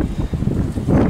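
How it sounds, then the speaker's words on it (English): Strong outdoor wind buffets the microphone in a continuous low rumble with gusty surges, loud and close, and no talking. "As you can probably tell, it's quite windy."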